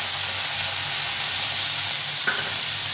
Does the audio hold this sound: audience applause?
no